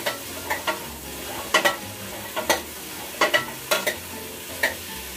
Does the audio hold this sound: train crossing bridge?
no